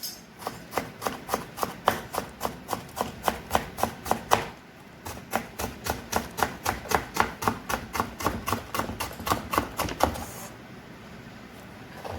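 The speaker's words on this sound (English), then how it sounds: "chop with a chopping knife" Rhythmic chopping-knife strokes on a kitchen cutting board, steady evenly spaced thuds continuing with one brief pause, close and distinct.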